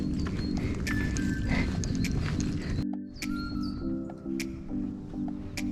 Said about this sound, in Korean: 새소리 너무 좋다